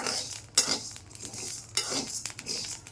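Rice dry-frying in a pan: soft crackles and pops with scraping stir strokes and utensil clinks in a few bursts, fairly quiet and close.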